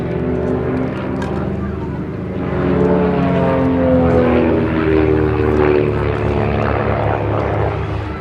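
A propeller aerobatic display aircraft of the Titans team at Abingdon flies a quarter clover manoeuvre, its engine drone rising and falling in pitch as it swings past, with a commentator speaking over it.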